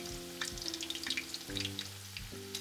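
Kakiage, a mixed vegetable tempura with browned onion, fries in oil held around 150 to 160 degrees, giving a steady close crackle and sizzle with dense popping bubbles and no talk.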